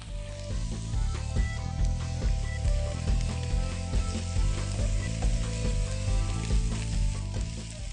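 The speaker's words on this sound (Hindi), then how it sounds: "अब जैसे प्याज अपना रंग बदलना शुरू कर दे, आप ऊपर से 2 टेबलस्पून सफेद सिरका पैन में डाल दें" Onions frying in a pan with two tablespoons of white vinegar added as they begin to color, a loud steady sizzle with crackling pops and occasional stirring scrapes, close up and without talk.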